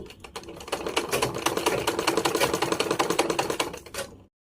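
A sewing machine stitching fabric in a basic tailoring lesson: a fast, even train of mechanical clicks that runs for about four seconds and then stops abruptly.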